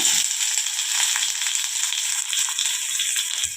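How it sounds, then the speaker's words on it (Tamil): Chopped onions going into hot oil already holding popped mustard seeds and cumin, giving a steady, close, bright sizzle and crackle that continues throughout without pause. "நான் பொடியாக கட் பண்ணி வச்சுருக்கிறேன் வெங்காயம் சேர்த்துக்கிறேன்"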